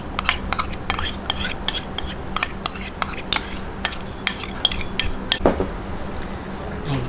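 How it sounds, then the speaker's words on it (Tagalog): A spoon stirs cocoa powder into champorado in a pot, giving a quick run of sharp clinks and scrapes against the metal in an irregular rhythm, close and fairly loud. "haluin lang po natin hanggang sa mag-mix yung ating cocoa powder"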